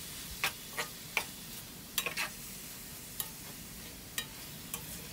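Mutton liver (kaleji) fries in a pan over a medium flame, a quiet steady sizzle broken by sharp, scattered spatters and pops every second or so, with no voices.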